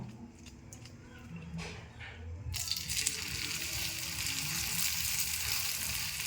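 Food hitting hot oil in a pan for a quick home recipe, starting with soft handling sounds and then bursting into a loud, steady frying sizzle that carries on to the end.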